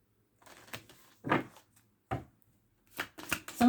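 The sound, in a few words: shuffling tarot cards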